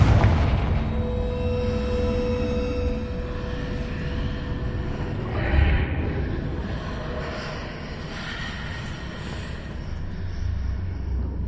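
A Confringo fire spell bursts in Hogwarts Legacy, a deep booming blast that rumbles out over a busy layered game soundscape, with a second swelling impact partway through and no voices.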